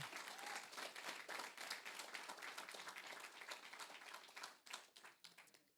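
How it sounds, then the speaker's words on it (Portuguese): Applause from a church congregation at a Saturday service, a dense wash of clapping that holds steady, then thins into separate scattered claps near the end, with no voices clearly standing out. "Aplauda com força, Jesus."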